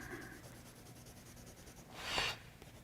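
A dark colored pencil burnishing over a dark layer of color on paper gives soft scratchy strokes, close and quiet, then one brief louder scrape near the end.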